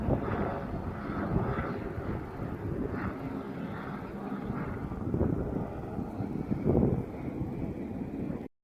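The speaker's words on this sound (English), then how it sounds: "And behind me is this helicopter that kept flying back and forth carrying something" Rotor and engine drone from a helicopter flying back and forth over a mountain hiking area near Samedan, Switzerland, a steady mid-distance rumble with wind buffeting the microphone and no talk.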